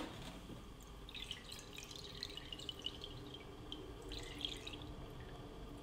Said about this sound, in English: So let's give it a wash.